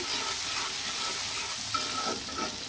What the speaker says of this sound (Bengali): গরম তেলে পেঁয়াজ কুচি কুচি করে রেখেছিলাম, সেই পেঁয়াজ কুচি কুচি দিয়ে দিলাম, দিয়ে ভালো করে নাড়াচাড়া দিয়ে দিলাম।